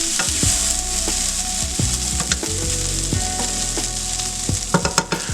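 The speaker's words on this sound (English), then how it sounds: "Mix all this up for 8 to 10 minutes, remembering to constantly stir." Seasoned corn fries in a skillet with a steady loud sizzle, punctuated by repeated scraping and clinks of a utensil stirring the kernels throughout, no voices.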